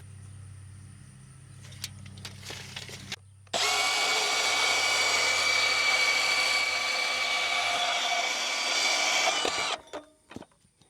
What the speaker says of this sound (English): So I'm gonna go ahead and just cut these off real quick, make them all the same height